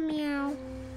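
Meow Meow, a pet cat, gives a single short, loud meow up close that slides downward in pitch, followed by a quiet low rumble.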